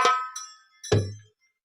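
A mobile phone ringtone sounds as two bright, metallic, bell-like notes about a second apart, each ringing out briefly before fading into silence.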